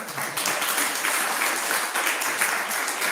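Steady, dense applause fills a city council meeting, a continuous wash of many hands clapping at fairly even loudness from start to finish.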